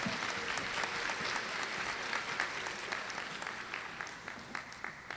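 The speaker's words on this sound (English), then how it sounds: "Give them a round of applause." An audience at a spring honors recognition ceremony applauds award recipients, a continuous fairly distant wash of clapping that slowly thins out toward the end.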